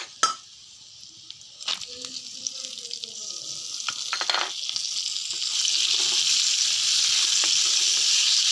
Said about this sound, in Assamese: বুটখিনি এনেকৈ ভাজি